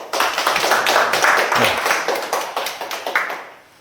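Audience clapping to welcome a guest speaker at a monthly study-group meeting, a moderate room of individual claps with audible separate hand strikes, steady for a few seconds before tapering off.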